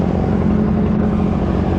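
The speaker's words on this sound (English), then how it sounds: "then we'll blow the fine debris out of this bed" A leaf blower roars loud and close without a break as it clears fine leaves and debris out of a garden bed during a fall yard cleanup.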